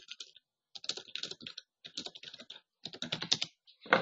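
Quick bursts of typing on a computer keyboard while entering text into an Excel spreadsheet, with close, crisp key clicks in short clusters separated by brief pauses.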